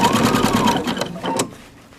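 A sewing machine runs a fast top-stitching pass on a sleeve band of a dress, a close, loud whirring that slows and stops partway through.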